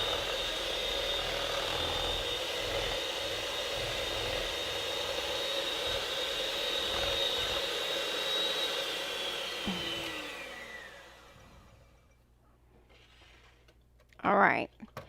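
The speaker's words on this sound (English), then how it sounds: "And go turn that mixer up high." An electric mixer running on high while beating eggs for a pecan pie: a steady, loud whirring hum that cuts out near the end, followed by a short clatter.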